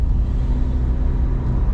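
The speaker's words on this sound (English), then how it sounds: "bloody engine noise too." Cabin engine drone of a 2015 Subaru Forester, a constant low rumble with road noise, steady and unbroken for the whole stretch, no voices.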